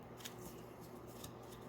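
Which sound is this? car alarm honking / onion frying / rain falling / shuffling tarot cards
shuffling tarot cards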